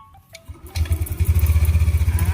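A Yamaha Nmax V2 scooter that had stalled and refused to start cranks over and catches, settling into a close, steady, pulsing idle with some mechanical clatter.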